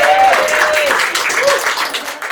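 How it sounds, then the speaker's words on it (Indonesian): Audience applause at a stand-up comedy show: a crowd claps under a brief whistle-like tone. The clapping is fairly loud at first, then thins out slightly. "Boleh minta tepuk tangan kawan-kawan."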